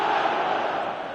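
A stadium crowd roars steadily during an eFootball 2026 match involving Manchester United, a broad wash of cheering voices that eases slightly toward the end.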